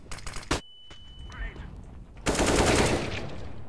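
Machine gun fire in a shooter video game comes in sharp rapid bursts: a few quick shots at first, a quieter gap, then a loud sustained volley that carries on to the end.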